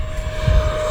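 An E-flite Viper 70mm EDF radio-controlled jet at full throttle, a loud steady whine of the ducted fan with a constant high tone over rumbling wind noise outdoors.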